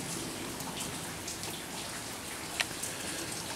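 Water keeps dripping after a long rainstorm, a quiet, steady patter of drops falling onto water and surfaces, with one slightly louder drip standing out.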